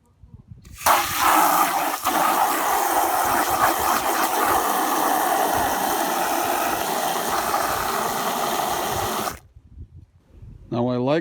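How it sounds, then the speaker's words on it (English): Water gushes steadily from a tap into a bucket for several seconds, a loud continuous splashing roar that stops abruptly near the end. "And we're going to put some water."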